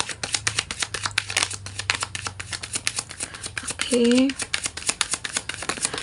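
Tarot cards being shuffled in rapid, crisp riffling bursts, with someone speaking over the shuffling.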